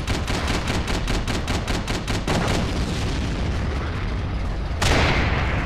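An anti-tank mine detonates beneath a tank in the video game Forgotten Hope 2, heard amid rapid rhythmic gunfire bursts and heavy rumbling battle noise, with a loud sharp blast near the end.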